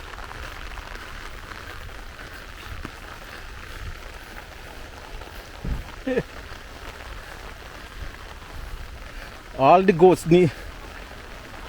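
Rain falls steadily on surfaces during an outdoor walk near the White House airport strip in Montego Bay, a soft continuous patter under brief bursts of people talking.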